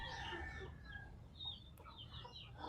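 Chickens cluck and call nearby in a rural farm setting, their soft clucks rising and falling over low background noise.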